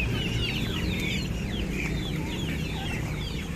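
Chickens cluck continuously at close range among backyard ducks and hens at feeding time, with overlapping calls over a busy farmyard background and no talk.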